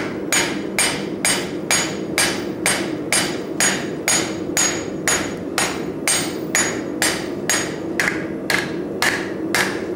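A blacksmith's hammer beats down into sheet metal again and again, putting deep dents in it, in a steady run of about twenty sharp, ringing blows that sound close and loud over a low background rumble.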